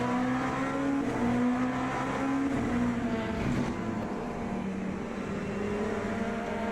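A race car in Le Mans Ultimate accelerates hard with a loud, steady engine roar and climbing pitch, heard alone and close throughout with no voices.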